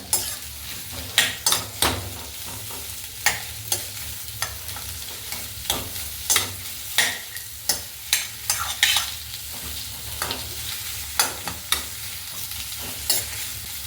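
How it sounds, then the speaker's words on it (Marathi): Mixed vegetables sauté in a hot pan, a steady sizzle broken by frequent sharp scrapes and clacks of a stirring spoon against the pan, close and fairly loud with no speech. "आपल्याला ह्या भाज्या सर्व जास्त शिजवायच्या नाहीत थोडे आपल्याला परतून घ्यायचे आहेत"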